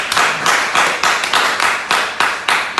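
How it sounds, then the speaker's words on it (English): Crowd applause at a live political rally, dense clapping swelling in rhythmic pulses with whoops and cheers, loud and close throughout without talk. "So let's give them a round of applause."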